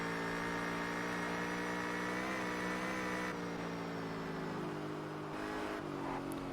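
A car engine in the racing game Test Drive Unlimited drones steadily at high revs, a loud continuous harmonic hum that shifts pitch slightly as it accelerates, with no talk over it.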